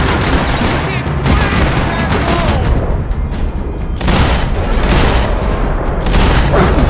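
Loud, dense gunfire in Max Payne 3, with bursts of shots and heavy booms crowding together across the whole stretch, near and continuous, while a voice speaks briefly under the action.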